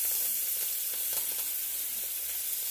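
Vegetables frying in about a quarter cup of hot cooking oil in a pan, a steady close crackling sizzle that holds evenly throughout with no voices.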